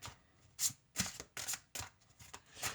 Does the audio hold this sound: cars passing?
no